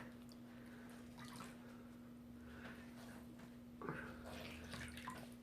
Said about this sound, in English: So I'm going to wring it out.